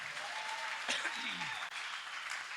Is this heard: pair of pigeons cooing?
no